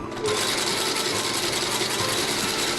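A sewing machine stitches the inseam joining the upper to the midsole of a Meindl boot, a loud, steady mechanical rattle of rapid needle strokes that starts abruptly and runs without pause close by.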